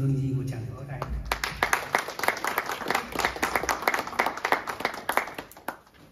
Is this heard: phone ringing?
no